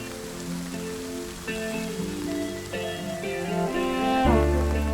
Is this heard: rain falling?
yes